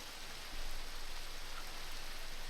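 Rain pours down steadily in a Minecraft world, a soft uniform hiss that swells slightly after the first half second and then holds even, with no talking over it.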